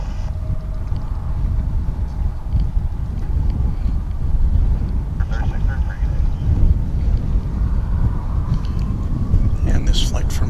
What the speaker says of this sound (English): this flight for Midland is getting ready to zoom away